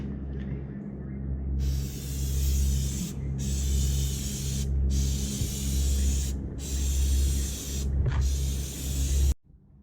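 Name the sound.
aerosol spray can spraying plastic dip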